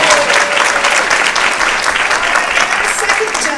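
Loud, steady applause from an audience at a seniors talent show, many hands clapping together in a continuous wash that fades slightly at the end.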